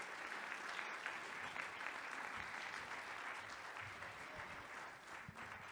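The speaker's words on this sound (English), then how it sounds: "let's give him a round of applause again as he comes up." Audience applause at a housing equality conference lunch, sustained broadband clapping from a large crowd, fairly distant and steady throughout.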